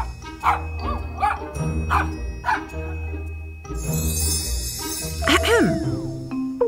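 A dog barks and yips repeatedly at close range, several sharp bright barks in an irregular rhythm, over a droning background with jingling and a rising whistle-like tone near the end.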